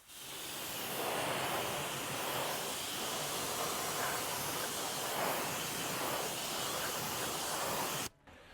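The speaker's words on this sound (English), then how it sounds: "I'm going to rinse the wheel off." A pressure washer rinses a dirty Audi R8 wheel, giving a steady broad hiss of spraying water, close and continuous, before it cuts off abruptly near the end.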